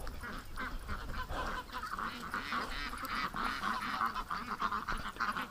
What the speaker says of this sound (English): there's a bunch of ducks that are on the other side of the creek, and it's almost like they're afraid to come home